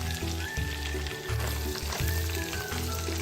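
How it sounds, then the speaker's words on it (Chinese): Shiitake mushrooms tossed into hot oil with dried shrimp and pork, a steady crackling sizzle broken by quick scraping stir strokes, close up and unaccompanied by speech. "再倒入香菇爆炒，"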